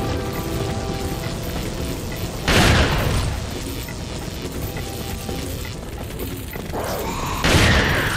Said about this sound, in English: Oh god, she has an anti-tank rifle.